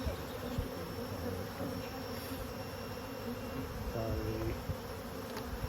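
Honey bees in a hive after smoking, a dense, continuous buzzing hum that stays steady and close, with a brief spoken word partway through.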